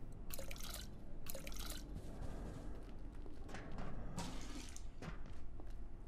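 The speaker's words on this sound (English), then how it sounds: "Let's water these just so they don't die again like the last time." Water pouring onto plants in the Abiotic Factor video game, a soft continuous splashing and dripping stream with brief louder bursts, faint and steady, no talk.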